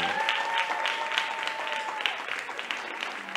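Audience at a church gathering applauding, a dense continuous patter of clapping with a sustained musical tone and a voice faintly underneath, fairly steady in level.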